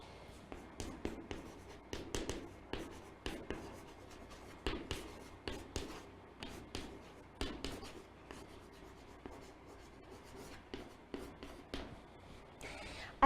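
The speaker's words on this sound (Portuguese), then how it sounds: "Deixa eu só escrever." Chalk or marker writing on a classroom board during a language lesson, with a steady run of short scratchy strokes and taps close by, no talk.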